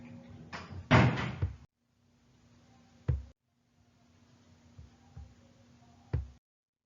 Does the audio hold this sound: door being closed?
yes